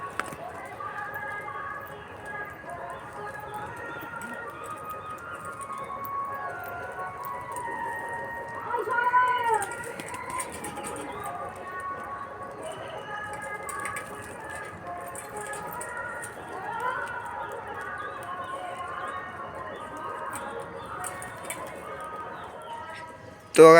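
Pet pigeons coo softly in repeated low, throaty calls while drinking water, a steady overlapping murmur close by with a little background noise.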